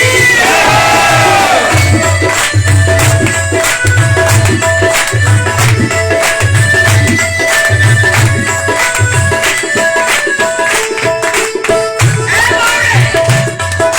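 Crowd at a devotional Khatu Shyam kirtan cheering and shouting together, a loud, sustained mass of voices with rhythmic clapping and music running throughout.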